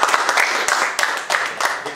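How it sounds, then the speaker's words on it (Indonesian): Scattered clapping from a classroom audience applauding a student group after its chemistry presentation on molecular shapes, a brief patter of uneven hand claps with irregular bursts over about two seconds. "Beri tepuk tangan untuk kelompok 2."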